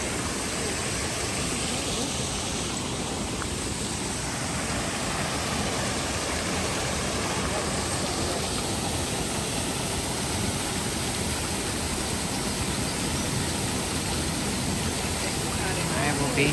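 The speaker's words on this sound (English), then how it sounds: "Come across a beautiful waterfall." A waterfall along the Camino Francés trail between Pamplona and Puente la Reina roars as a steady, dense broadband rush, loud and constant throughout with no voices.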